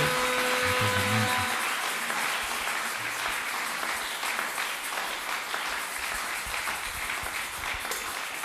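A church congregation applauds during a French-language service, broad sustained clapping filling the room for several seconds, with a faint voice and a low tone at the start.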